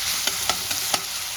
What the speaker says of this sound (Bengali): পেঁয়াজ কুচি আর লঙ্কা কুচিটা আমি ভেজে নেব